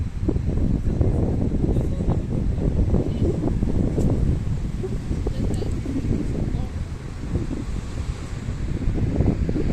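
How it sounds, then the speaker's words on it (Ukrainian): Broad, constant roar of Atlantic Ocean surf at Puerto de Santiago, Tenerife, and wind buffeting the microphone, with waves churning steadily throughout. "Ось такі хвилі сьогодні на океані"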